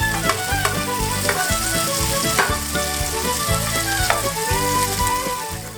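Zucchini frying in a hot pan gives a loud, continuous close sizzle with crackles and occasional knocks of stirring.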